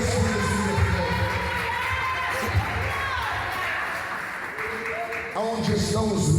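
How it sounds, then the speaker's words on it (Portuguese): A church congregation breaks into applause and cheering during a worship service, with shouting voices and clapping overlapping in a lively, reverberant mix, swelling again near the end. "Quem pode aplaudir a esse Deus?"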